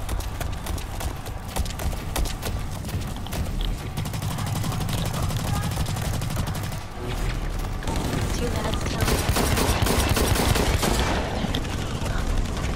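Rapid light pistol fire in the shooter game Blacklight, dense repeated shots crackling steadily across a busy, loud battle mix, with brief voices underneath.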